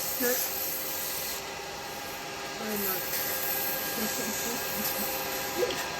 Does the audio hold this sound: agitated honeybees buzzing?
no